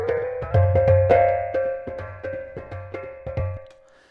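An Ableton Corpus membrane resonator tuned to C4 rings out a quick run of bright, metallic, drum-like notes. The hits come roughly every half second and each leaves a sustained tone that fades out at the end, with no speech.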